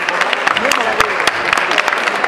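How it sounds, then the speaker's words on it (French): Concert audience applauding to honour an ambassador, a brief burst of close clapping with distinct individual claps, mixed with voices talking over it. "qu'on peut applaudir s'il vous plaît."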